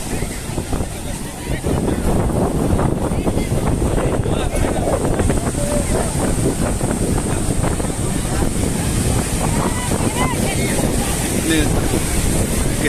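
Ocean surf at Puri beach roars in a continuous broadband wash, with heavy wind buffeting the microphone close up throughout.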